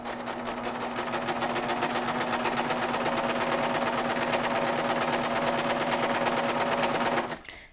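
A serger runs continuously along a seam line with a fast, even mechanical chatter and a steady hum, close and prominent for about seven seconds before stopping at the end, with no voices.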